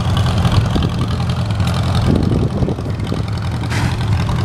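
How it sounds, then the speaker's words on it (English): An old Farmall A tractor engine runs with a low, steady chug, loud and close, with slight shifts in its rumble, at a steam era show. "Farm all A there, making some noise."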